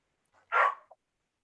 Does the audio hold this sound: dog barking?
yes